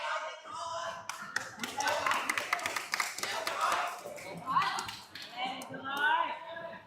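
Crowd at a bouldering competition cheers and claps for a climber on a hard problem, steady scattered clapping and shouts under near continuous commentary talk throughout.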